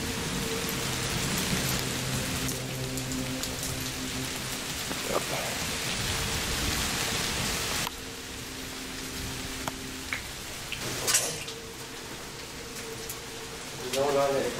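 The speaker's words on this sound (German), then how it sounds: "Ja, wie man hört, Regen ist immer noch da." Steady rain falls without a break, with a few faint rumbles of thunder in the background, while a voice says a brief word.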